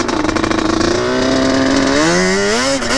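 A Yamaha Banshee two-stroke engine winds up into its power band, a loud, close, buzzing rasp that climbs steadily in pitch over a few seconds.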